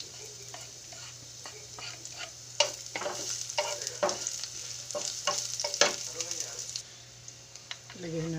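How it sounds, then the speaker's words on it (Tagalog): Garlic sautéing in a pan for stir-fried pechay and cabbage, with a steady oily sizzle under repeated scraping and stirring strokes of a utensil against the pan, close by and moderately loud. "Gisahin natin ang bawang."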